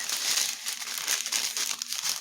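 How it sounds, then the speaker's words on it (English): Plastic craft packaging for a diamond painting kit crinkles steadily up close, a continuous bright rustle and crackle with no pauses or talk. "here's the crinkling"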